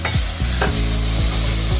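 Capsicum, tomato and green chilies fry in a pan, giving a loud close sizzle broken by quick scraping stirs about every half second, with no voices.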